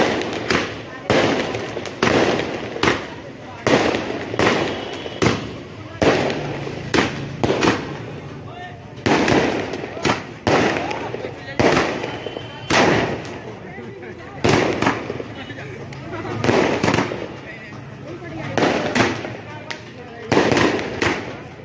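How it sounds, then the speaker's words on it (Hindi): Firecrackers go off in a rapid, uneven string of sharp bangs, one after another, loud and close, with voices talking underneath. "बम फोड़ रहा है वो सामने आशु भाई"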